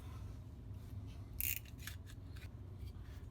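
A knife slices through thin material for a homemade visor extension, producing a few quick, crisp cutting sounds over a low background hum.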